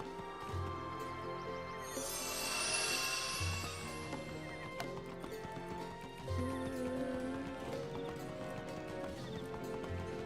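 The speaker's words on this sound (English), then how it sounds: "Yes, sane horse noises." Horses in the Wizard101 video game, with repeated clip-clop hoofbeats and whinnying neighs over a steady game backdrop, fairly loud and without speech.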